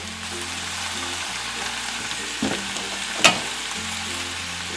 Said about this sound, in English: And this is just a basic stir fry